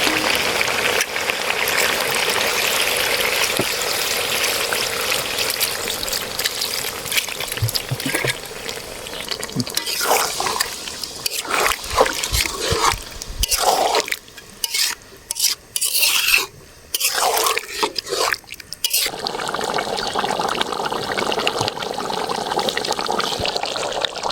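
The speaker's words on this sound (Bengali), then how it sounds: "এবারে আমরা ঝোলের জন্য জল দিয়ে দেবো" Water poured into a pot of braised, reddened meat to make gravy, a long rushing, splashing stream with stirring and rasping scrapes, some brief gaps midway, outdoors cooking, no talk.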